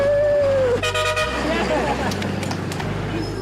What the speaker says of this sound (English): Come on, everybody, keep honking.